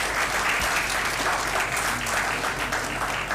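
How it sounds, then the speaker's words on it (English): An audience at a Federal Judicial Academy event applauds, with dense, steady clapping that holds evenly for a few seconds. "So a clap for her as well."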